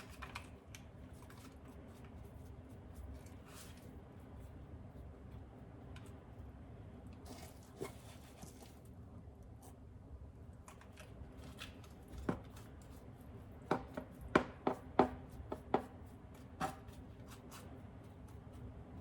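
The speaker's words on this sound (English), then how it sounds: "Again, another few scoops of our substrate here." Soft, irregular crumbly scrapes and rustles as mushroom bulk substrate is scooped and layered with grain spawn, quiet and close, with a few sharper clicks and taps toward the end.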